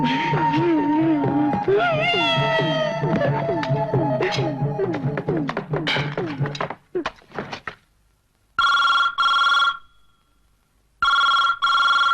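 An indoor telephone bell rings in two short bursts near the end, loud and close, following a stretch of people talking and a few thumps.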